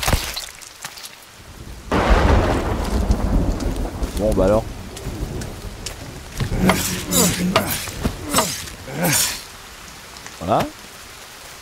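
Rain and rumbling thunder in the survival video game Sons Of The Forest, a steady wash of rainfall with low rolls, mixed with game effects and someone speaking briefly in French.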